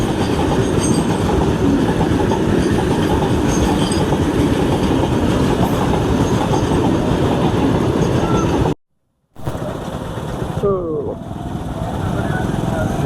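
A passenger train rolls past close by on the rails with a continuous loud rumble and rhythmic wheel clatter, the roar cutting out for a moment before resuming slightly quieter.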